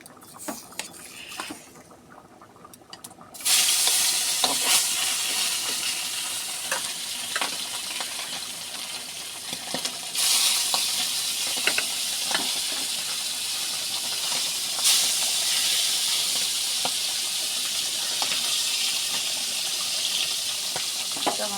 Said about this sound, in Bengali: মাছগুলোকে ভালো করে ভেজে নিচ্ছি